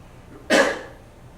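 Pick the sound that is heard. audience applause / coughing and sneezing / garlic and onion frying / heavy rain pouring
coughing and sneezing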